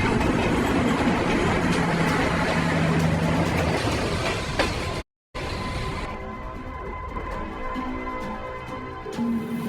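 An Indonesian KRL electric commuter train, Tokyu 6000 series, rumbles loudly with rolling wheel noise, briefly cuts out, then continues more quietly with a faint steady electric hum as it pulls away.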